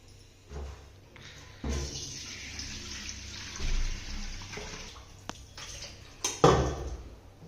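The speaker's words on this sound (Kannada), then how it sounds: "ನೈಟ್ ನೆನೆಸ್ಬಿಟ್ಟು ಚೆನ್ನಾಗಿ ತೊಳ್ಕೊಂಡು ಸೋಸ್ಕೊಳ್ಳೋಣ." Soaked rice, about a kilogram and soaked overnight for kajjaya, is washed with water in a vessel and drained through a colander, giving faint swishing and splashing with a few clinks of metal and louder bursts near the end.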